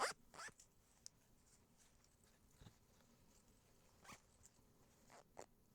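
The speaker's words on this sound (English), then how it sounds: "this zipper, because it's so long, it's a bit tricky" Long zipper on a pair of lightweight summer overalls being done up, a few short scratchy zipping bursts spread between quiet pauses, close and fairly faint, with no talking.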